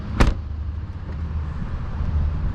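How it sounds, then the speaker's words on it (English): A Dodge Challenger sports car door makes a single sharp click near the start, then a low, steady hum continues as the window lowers slightly. "When you open the car door, windows come down a little bit."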